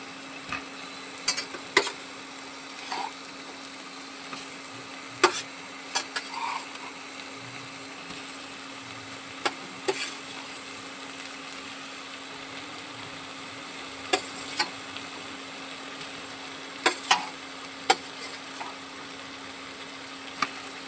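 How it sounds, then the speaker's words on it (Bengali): Potatoes stir-fried with spices in a pan give a soft, steady frying hiss, broken by sparse sharp scrapes and clinks of a spatula against the pan. "এটাকে আমি ভালো করে সাথে মশলার সাথে কষিয়ে নেবো।"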